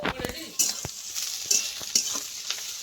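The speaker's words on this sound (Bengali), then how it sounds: "আর দিয়ে দেবো কেটে রাখা শিম। ভালো করে একটু ভেজে নেব।" Cut flat beans, with chopped eggplant, frying in a pan while a spatula stirs them: a steady sizzle broken by scraping strokes and a few sharper clacks against the pan. No one speaks.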